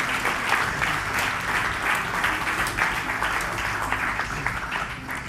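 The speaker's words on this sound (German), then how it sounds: "Einen Applaus für die beiden." Studio audience at a German food-challenge game show applauding two contestants, a dense, steady wash of clapping that carries on for several seconds.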